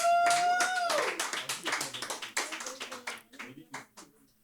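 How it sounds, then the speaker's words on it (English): A voice speaks briefly, then scattered hand clapping follows, loose and uneven, tapering off into a few last claps. "Of course, she deserves an applause,"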